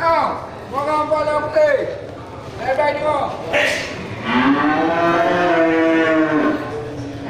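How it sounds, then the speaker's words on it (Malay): Aceh cattle at a busy livestock market lowing in long drawn moos, several calls spread across the clip, with people talking among them. "Nah, ini satu ekor sapi Aceh ya,"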